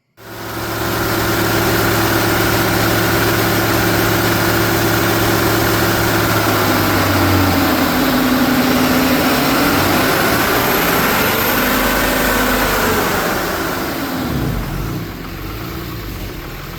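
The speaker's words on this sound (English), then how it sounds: "I'm going to make a baseline dyno pull, see where we're at, tune the truck, gradually bring up the power" A 2013 Ram 2500 with a 6.7L Cummins diesel and G56 manual gearbox, on stock tune, makes a loud dyno pull, the engine drone climbing steadily in pitch for about fourteen seconds before backing off.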